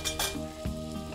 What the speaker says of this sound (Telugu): ఇక్కడ వెన్న కరుగుతోంది కదా